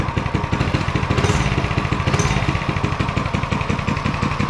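A Coleman CC100x mini bike engine warms up after starting, a small single-cylinder putter chugging in a fast, steady rhythm close by, with no talk over it.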